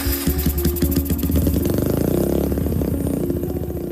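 A motorcycle engine in an animated school film, running with a steady rapid putter that is close and fairly loud, with no speech.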